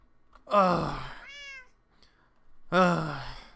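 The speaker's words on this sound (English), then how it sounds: "Cats, you're freaking me out." Minecraft cats meow, two loud drawn-out cries separated by a softer, higher mewing sound in a quiet game setting.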